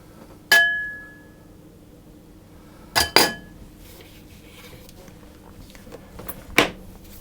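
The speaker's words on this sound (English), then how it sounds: "Carefully removing the sharp blade." A sharp metal blade is lifted out of a food processor bowl of tart pastry, giving a few short clinks and knocks, spaced a few seconds apart against a quiet kitchen background.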